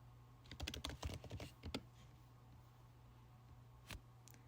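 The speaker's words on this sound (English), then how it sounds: "just type in your telephone number and just click on sign up." Typing on a computer keyboard while a telephone number is entered into an online sign-up form. A quick, quiet burst of close keystrokes is followed by a pause and then a couple of lone clicks, over a faint steady hum.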